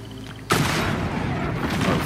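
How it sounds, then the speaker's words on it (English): Dynamite blasts in a Wild West video game, set off by a sudden loud boom that becomes a sustained, crackling roar of overlapping explosions close by, with no talk. "Cool guys don't look at explosions."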